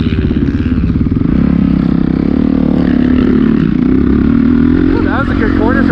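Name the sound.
dirt bike riding on motocross track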